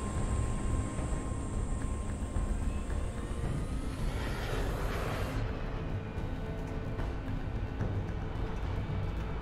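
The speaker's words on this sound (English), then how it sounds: "Contact is Pelican dropship, Kilo 23, over." A Pelican dropship in Halo 3 flies with a steady, dense engine roar and a high whine that climbs and then cuts off, all at a constant loud level.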